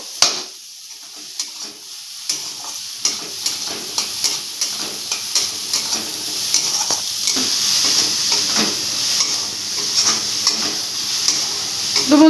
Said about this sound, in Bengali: দেখো আমার পেঁয়াজটা রসুনটা ভাজা হয়ে গেছে